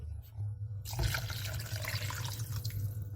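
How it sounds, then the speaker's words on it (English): Water poured from a cup into a cooking pot of vegetables, a steady splashing pour that starts abruptly after a brief quiet moment and runs on fairly close and loud to the end, with no talk over it. "we're just going to pour some water in there."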